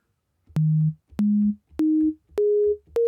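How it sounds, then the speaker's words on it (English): Synthesizer tone on the Pivot instrument with its waveform set to start at the high point, producing a harsh click at each onset: five short sustained notes, each rising slightly in pitch, spaced evenly and played alone without talk. "we'll get a really harsh click from the waveform starting at the high point"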